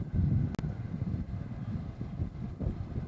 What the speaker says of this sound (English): This is Korean Air coming in from Seoul. It's a Dreamliner.